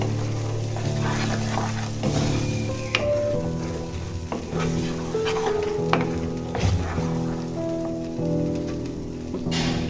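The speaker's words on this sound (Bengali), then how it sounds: "এখানে আমি কিছুটা পোস্ত পেস্ট দিয়ে দিয়েছি। এবার বেশ ভালো করে কষিয়ে নেব।" Pointed gourd frying with poppy seed paste in a pan, with a constant close sizzle under repeated scraping stirs of a spatula. A steady tonal hum from a kitchen fan or appliance runs underneath, and no one speaks.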